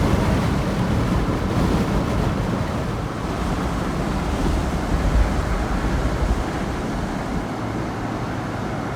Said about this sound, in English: And it's windy, very windy.